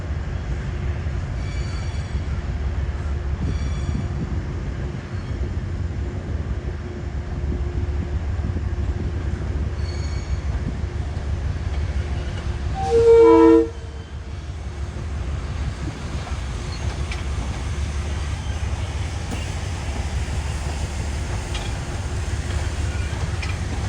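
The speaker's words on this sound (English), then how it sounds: "Well, here's some M3s coming out of the yard." M3 commuter railcars rolling out of a rail yard on the Hudson line, a steady low rumble of wheels and motors with a brief louder clank or horn-like tone midway, wind noise over the top.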